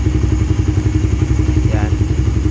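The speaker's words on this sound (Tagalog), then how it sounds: "Magana na starter nya." A Raider 150fi motorcycle engine runs close by with a steady, rapid low thumping pulse throughout, plus a brief higher chirp near the end.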